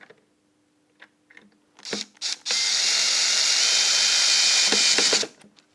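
A power drill drives a screw into a wooden shelf held by a clamp to a strut, a steady loud whirring burst of about three seconds after a few short handling knocks and brief starts.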